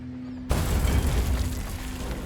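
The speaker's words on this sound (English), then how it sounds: "a loud explosion rocked the ferry" A sudden heavy boom of an explosion striking a passenger ferry at night, breaking abruptly out of a low hum and rolling on as a loud, dense rumble that slowly fades without settling.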